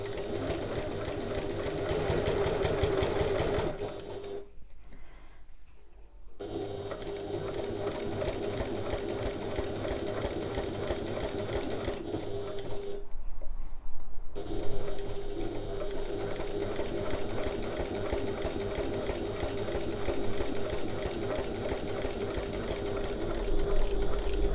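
Close, steady whirring of a sewing machine stitching a passport folio lining, running continuously with two brief pauses where the motor stops before resuming.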